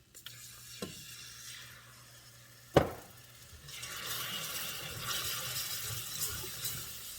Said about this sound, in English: I'm going to slowly add the milk.